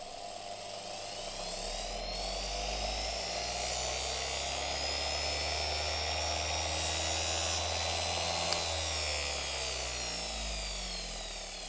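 A Parkside PFDW 120 A2 bench grinder's flexible shaft running, a steady high-pitched motor whine with a low hum underneath, constant and close throughout with no voices.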